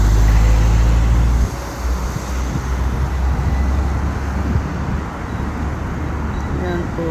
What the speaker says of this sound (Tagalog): So, marami pa rin sasakyan.